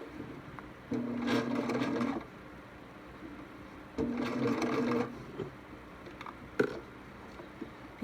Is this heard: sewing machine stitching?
yes